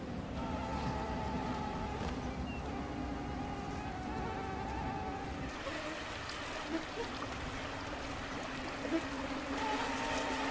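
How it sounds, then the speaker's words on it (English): Swarms of mosquitoes over the summer tundra produce a faint, continuous whining drone, with a soft trickle of water underneath and no voices. "Mosquitoes."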